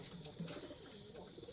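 Pigeons coo softly on a pigeon farm, a few low, rounded calls repeating close by at a faint level with no talk.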